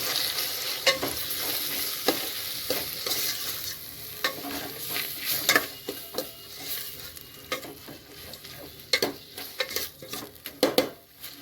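A spoon mixes a pounded green chili and ginger paste into bajji batter in a bowl, with irregular close scraping and sharp clinks of metal on the dish. No one speaks.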